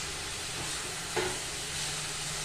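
Mixed vegetables for American chop suey frying on a high gas flame, a steady loud sizzling hiss throughout with one brief clink of a utensil midway.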